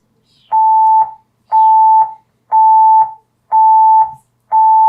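An INAV flight controller gives its receiver-lost warning as five loud, evenly spaced electronic beeps, each about half a second long with short gaps between, clear and close with no voices.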